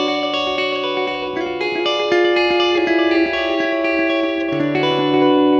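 Clean electric guitar through a delay pedal set to full level, ringing sustained chords and picked notes with repeats stacking and trailing behind each attack, close and fairly loud with no talking.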